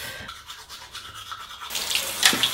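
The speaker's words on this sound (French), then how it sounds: "On se brosse les dents." Teeth being brushed with a toothbrush in a bathroom: close, rhythmic scrubbing strokes that grow louder and wetter toward the end.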